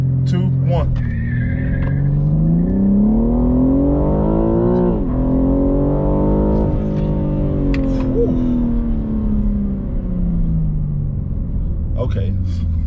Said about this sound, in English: Preparing launch. Launch control active.